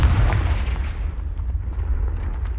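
A fiery Confringo spell blast from Hogwarts Legacy bursts out loudly at the start, then fades into a low rumbling decay with faint scattered crackles.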